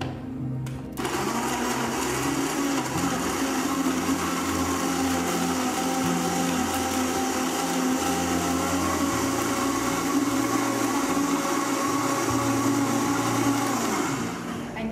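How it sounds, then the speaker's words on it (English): A high-powered Vitamix blender blending salad dressing whirs steadily at full speed for the whole stretch, a loud, constant motor roar after a brief quiet start. "I'm gonna go ahead and blend this. You can also do this in a regular blender"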